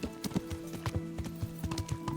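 A horse's hooves clip-clop steadily in the medieval game Kingdom Come: Deliverance, a brisk, even walking rhythm close by over a low ambient hum.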